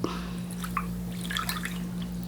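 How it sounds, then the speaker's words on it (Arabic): Water from a cup poured onto sugar in a kitchen pot, a light trickling and dripping over a steady low hum, with no talk. "الكوب السكر هذا نعمل له كوب مي أو موية أو ماء"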